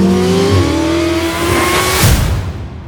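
Lamborghini Huracan STO's naturally aspirated engine on track, loud and close, its pitch climbing through revs before a sharp upshift and renewed climb, then fading as the car pulls away.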